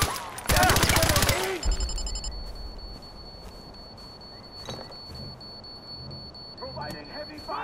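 Heavy gunfire in the video game Far Cry 4: a loud, dense burst of rapid automatic shots lasting about a second, then a quieter stretch of battle ambience with a few scattered distant cracks.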